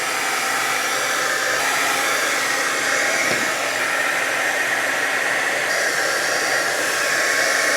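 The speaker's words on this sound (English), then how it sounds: "for my purposes I'm going to bring my heat gun" A heat gun blows hot air to dry a napkin craft piece, giving a loud, steady whooshing roar that runs unbroken for about eight seconds.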